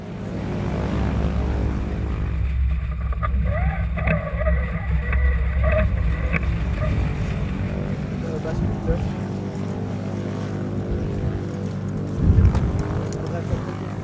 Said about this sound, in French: L'avion remorqueur se positionne devant le planeur